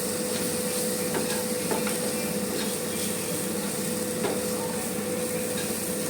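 Sliced mushrooms fry in a pan while being stirred, giving a loud, steady sizzle throughout with faint scraping sounds rising now and then from the stirring.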